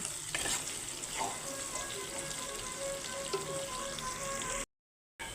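Chopped onion hits hot spiced oil for an egg curry and fries with a steady, close crackling sizzle, faint clatter of stirring on top, before a short silence near the end.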